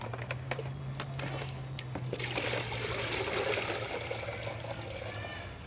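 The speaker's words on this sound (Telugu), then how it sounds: "పెట్టుకొని ఇప్పుడు మనం దీంట్లో వాటర్ నింపేసుకోవడమేనండి." Water pouring and trickling into a wick-fed drip plant box for garden plants, a steady close splashing flow that builds after the first two seconds, with a low constant hum underneath.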